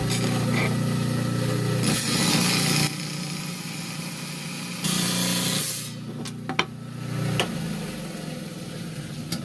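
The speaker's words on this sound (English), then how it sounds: "All right, down here on my 10-inch high-tech slab saw, and I'm going to cut this out here." A 10-inch slab saw cutting through mahogany obsidian: a loud, steady grinding whine with a motor hum, intensifying in two sustained stretches, then easing into quieter rubbing and a few clicks.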